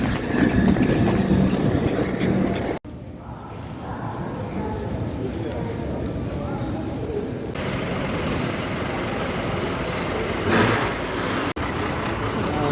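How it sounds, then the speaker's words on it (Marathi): A passenger train on the Mumbai to Chiplun route rumbles steadily along, with a continuous low roar and clatter and voices talking over it. "गाडी सुरू झालेली आहे."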